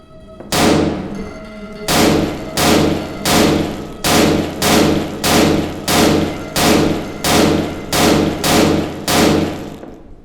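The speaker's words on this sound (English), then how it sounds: "These gunshots are so loud," Gunfire in a haunted PS1-style horror game demo: after one opening blast, a long run of about eleven loud, evenly spaced booming shots, each with a short echoing tail.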